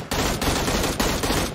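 Loud, rapid bursts of gunfire ring out in the mobile battle-royale game Game for Peace, a near, dense rattle of shots with brief gaps between the volleys.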